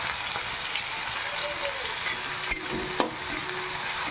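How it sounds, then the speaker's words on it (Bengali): Shelled snails being stir-fried with salt in a pan: a steady sizzle runs throughout, broken by a few sharp utensil scrapes and knocks near the end, with no talking. "এবারে একটু নেড়ে চেড়ে একটু সামান্য পরিমাণ মতো একটুকু দিয়ে দেব নুন।"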